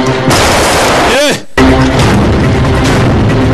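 Grenade explosion in a dubbed action movie: a single loud boom with a descending sweep bursts out mid-clip, set within dense, loud action audio and voice-over narration.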